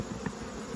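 Honeybees on a hive frame give a steady, close insect buzz that holds at an even level through the brief moment they are being knocked off.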